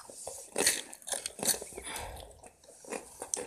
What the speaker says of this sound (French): Ça fait croque-croque dans la bouche.